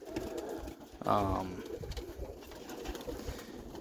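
A roller pigeon coos once, a low bubbling call lasting about half a second, close by amid quiet rustling background noise.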